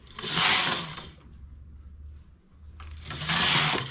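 Carriage of a knitting machine sweeping across the needle bed while making a simple sport collar, two loud mechanical whooshing passes at the start and end with a quieter hum between, no talking.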